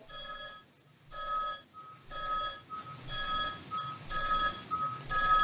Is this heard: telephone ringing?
yes